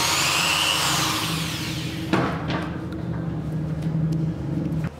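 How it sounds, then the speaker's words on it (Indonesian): An Uchiha 6204 10 mm electric drill whirs with a steady motor hum, a sharp click near the midpoint and an abrupt cutoff toward the end. "video review dan unboxing bor listrik Uchiha 6204"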